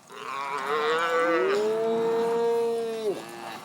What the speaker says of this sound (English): Sorting calves and cows that go to market.